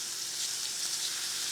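Small cubes of chicken breast sautéing in hot ghee give off a steady, close, bright sizzle that holds evenly throughout the short moment, with no voices.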